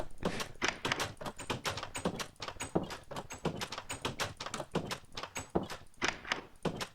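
Old-style Minecraft wooden door sounds in a video game, a rapid run of sharp clicking thunks repeated many times at an uneven quick rhythm, close and clear with no talk.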